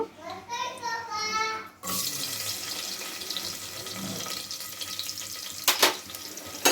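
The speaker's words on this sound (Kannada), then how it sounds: "ಸ್ವಲ್ಪ ಕಾದ ನಂತರ ಅದನ್ನು ಈರುಳ್ಳಿ ಹಾಕೋಣ" A short voice is followed by onions dropped into hot oil with cardamom for menthya bath, bursting into a sudden loud, steady sizzle with a few brief spatters near the end.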